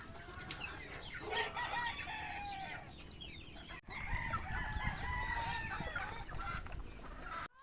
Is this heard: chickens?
yes